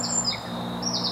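Birds around a carp fishing lake called Pride of Derby give thin, high, drawn-out whistles over a low steady hum, fairly faint, with no speech.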